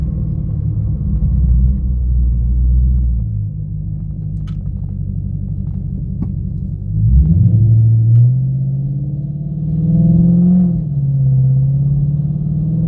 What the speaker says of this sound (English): Just out for a little cruise in the country in the Charger here.